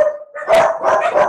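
A dog barks in a quick run of three or four loud, close yaps with a faint tone underneath.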